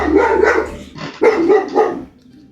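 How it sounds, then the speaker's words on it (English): Several dogs bark in bursts somewhere behind the scene, the barks fairly loud and clustered in two groups with a short pause between, fading out near the end. "And you hear dogs barking in the background."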